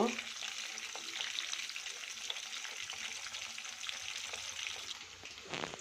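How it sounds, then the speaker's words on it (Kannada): Chicken kabab pieces frying in hot oil, a steady dense sizzle with bubbling crackle running throughout at moderate loudness, with no talking over it. "ಇಲ್ಲಿ ಚೆನ್ನಾಗಿ ಆಗ್ತಾಯಿದೆ ಕಬಾಬು"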